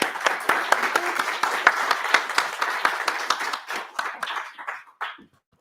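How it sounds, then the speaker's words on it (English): A conference audience gives the speaker a round of applause, a moderately sized crowd clapping in a lively, uneven patter that thins to a few last claps before fading out. "So can we please make a round of applause?"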